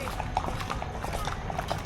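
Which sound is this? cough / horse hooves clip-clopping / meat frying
horse hooves clip-clopping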